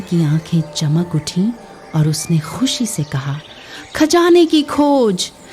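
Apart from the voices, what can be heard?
No distinct noise like a dog, phone or traffic.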